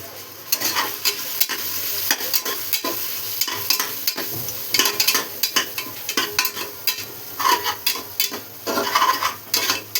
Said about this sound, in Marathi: छान असं हे सर्व परतून घ्यायचं आहे, शिजून घ्यायचं आहे